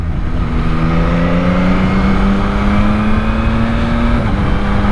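A 2021 Yamaha MT-09 motorcycle engine pulls hard under acceleration, its loud steady drone climbing in pitch before a quick-shifter gear change drops the revs near the end, with rushing wind noise throughout.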